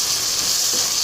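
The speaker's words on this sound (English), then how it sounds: "Add cumin powder, red chili powder, any natural salt, coriander powder and stir well" Cumin, red chili and coriander powder sizzle in a hot pan for mixed vegetable sago khichdi, making a brief, steady, fairly loud frying hiss.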